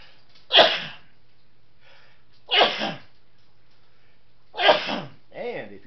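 A person breaks into a sneezing fit: three sharp, loud sneezes spaced about two seconds apart, the last followed by a shorter trailing sneeze, against a quiet background hum.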